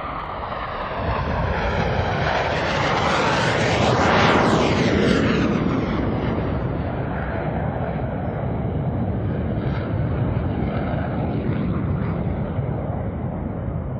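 Blue Angels jets at the 2021 Sun 'n Fun air show flying a low break-cross maneuver, a loud continuous roar that swells to a peak and sweeps past, then lingers as a broad rumbling wash as the aircraft separate.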